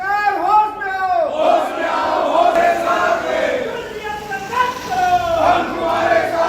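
Crowd of government employees and officers protesting in the street in Madhya Pradesh, a dense chorus of many voices shouting slogans together, loud and continuous with rising chants.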